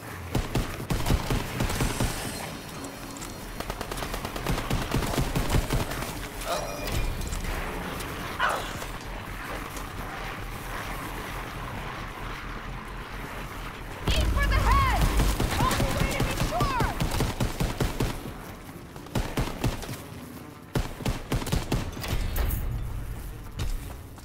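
Grease gun firing in a WW2 zombies shooter, repeated bursts of automatic shots spread over the clip amid game noise and steady chatter from players, with a heavier stretch of fire in the middle.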